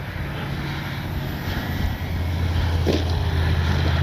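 An FMS Ranger 1800mm radio-controlled airplane in flight, its electric motor giving a steady, fairly loud buzzing drone that swells slightly toward the end, with outdoor wind noise and no talking.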